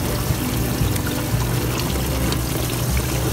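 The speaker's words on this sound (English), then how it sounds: "the water is going in just fine" Water rushes steadily into a newly installed dishwasher, a continuous close hiss and gurgle of flowing water with no voices.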